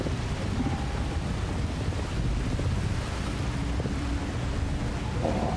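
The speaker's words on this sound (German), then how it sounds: "Geil, richtig schöner kühler Wind." Cool dry wind rushes steadily across an open outdoor area in Star Wars Jedi Survivor, a constant broad blowing roar with faint surf-like swells and no talk.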